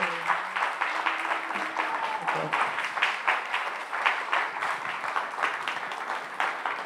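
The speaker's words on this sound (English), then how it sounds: "Can we have another round of applause, gratitude for our speakers" Crowd at a ceasefire vigil and teach-in applauding its speakers, a moderately loud, steady patter of clapping from a modest group, with brief tones and murmurs early on.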